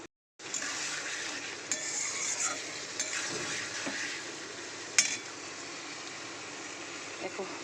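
Spiced masala for fish kalia fries in oil with potatoes, a steady close sizzle with occasional spoon stirs and clinks against the pan.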